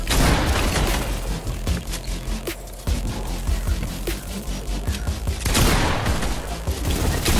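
Dense, rapid gunfire from the Fortnite video game, loud and nearly continuous with sharper bursts and a brief lull in the middle, with no talking.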